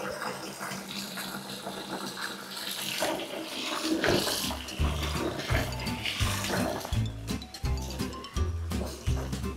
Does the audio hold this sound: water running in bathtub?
yes